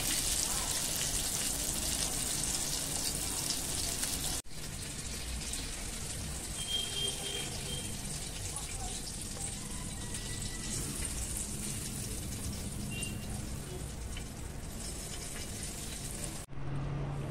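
Halwa fish (pomfret) frying in a pan, a dense steady hiss and crackle like rain, continuous for the whole stretch and broken only by two brief dips.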